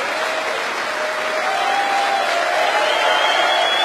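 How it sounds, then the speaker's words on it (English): Audience at a snooker tournament in Antwerp gives the winner a sustained burst of loud, dense applause that holds steady for a few seconds. "Thunderous applause."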